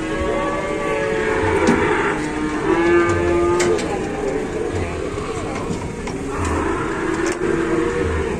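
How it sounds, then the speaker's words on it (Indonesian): A sick cow, taken to a market for slaughter, moos repeatedly in long, drawn-out calls, loud and close, with engine noise and some voices in the background. "dari belakang ada sapi ngamuk"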